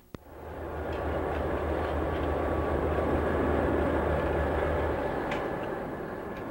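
Elderly early-1950s EMD SD7 diesel locomotives working Southern Pacific hump yard service, a steady loud rumbling drone with rolling wheel noise that swells in after a sharp knock and holds level throughout, no voices.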